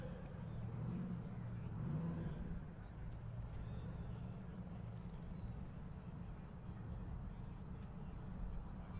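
A Chevrolet Camaro race car in the left lane at a Rocky Mountain Race Week race day rumbles faintly and distantly, a low continuous engine drone with occasional voices in the background.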